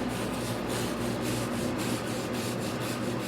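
A small brush, not much bigger than a toothbrush, scrubs over a drywall bead in a steady run of short, dry rubbing strokes, close and fairly loud, with no voices.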